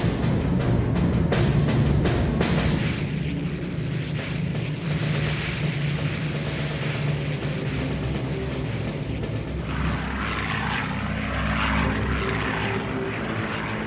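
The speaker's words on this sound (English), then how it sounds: "The Spitfires of 602 Squadron are amongst the first to make contact with the huge Luftwaffe formation." Spitfire and Hurricane fighter aircraft fly overhead with their piston engines and propellers roaring. The drone is steady and loud and continues throughout, with no talk.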